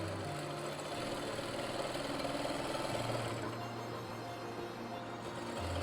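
A sewing machine stitches a seam joining the seat panels of palazzo pants, running as a steady mechanical whir with a continuous motor hum, moderately loud and close throughout, with no talk.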